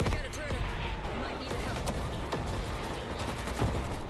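Gunfire in a zombie shooter video game, a dense, continuous stream of sharp shots and impacts running the whole time over a busy, loud game mix.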